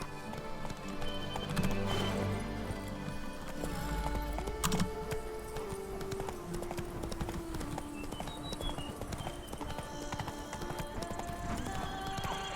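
Hooves of Roach, a horse in The Witcher 3: Blood and Wine, clip-clop steadily through the countryside, joined by a whinny, all laid over a continuous game music and ambient bed.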